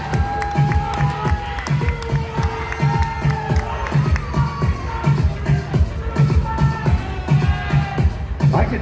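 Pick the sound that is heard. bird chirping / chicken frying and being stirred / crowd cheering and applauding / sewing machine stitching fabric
crowd cheering and applauding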